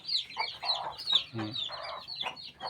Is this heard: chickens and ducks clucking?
yes